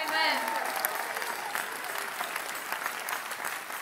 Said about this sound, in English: Especially for those who are clapping